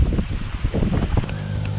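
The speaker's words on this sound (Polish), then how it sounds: "Przepotężnie tutaj wieje nad wodą." Strong wind buffets the microphone over open water in autumn in the Netherlands, with boats moored nearby; a loud, steady low rumble with gusty surges, and no voices.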